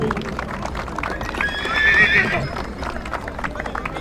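A Megève breed horse, a filly, neighs loudly and close by for about a second at a breeders' show, with crowd noise and murmuring voices around it.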